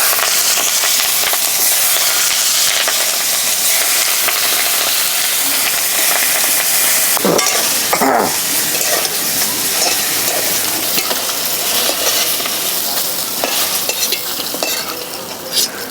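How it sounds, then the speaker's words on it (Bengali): Prawns frying in oil in a pan while being stirred, a steady close sizzle running throughout with a few brief clinks of utensils partway through, no talk. "এবার বাকি যেই মাছগুলো আছে সব ভেজে নিই"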